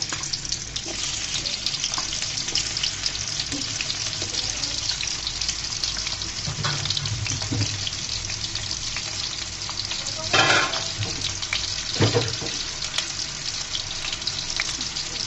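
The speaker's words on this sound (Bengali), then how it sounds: "রান্নার রেগুলার সয়াবিন তেল। দিয়ে দিলাম কেটে রাখা আলুগুলো।" Cut potato pieces fry in regular soybean oil in a cooking pot, a dense, steady crackling sizzle running throughout with a few louder bursts of spatter and stirring midway.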